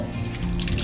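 Water runs from a tap in a bathroom, a close, steady splashing rush that lasts under a second with no speech.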